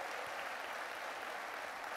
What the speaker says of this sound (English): Big round of applause to all of you for being here.